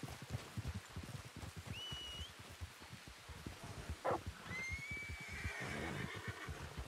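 Horse whinnying in the Red Dead Redemption video game, a couple of short high whinnies set against rain, rustling and dense game sound.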